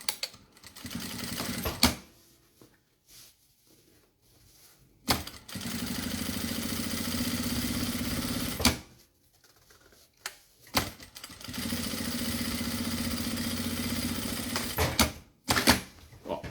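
A sewing machine topstitches a fabric double pencil case in several loud, steady whirring runs. Short pauses between runs carry small handling clicks and rustles.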